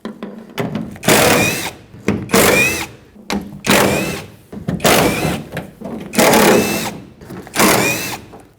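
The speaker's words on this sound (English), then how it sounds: "remove all these fasteners. They're 10 millimeter in size" Power tool removing 10 millimeter fasteners from a Ford F-150 tailgate: close, loud bursts of whirring about every second, seven or eight short runs with brief pauses between them.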